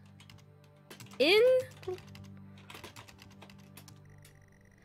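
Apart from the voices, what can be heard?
typing on computer keyboard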